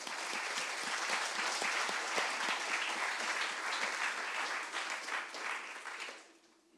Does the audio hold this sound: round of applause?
yes